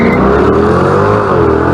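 A stolen car speeds past police cars. It is a loud, close engine roar with a rising and falling whoosh and faint tire noise across a short burst. No voices are heard.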